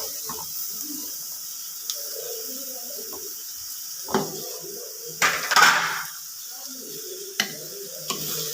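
Cleaned prawns tossed into a pan of masala for Kerala-style prawn theeyal, with a sudden sizzling burst midway among scattered stirring and utensil clinks against a low kitchen background.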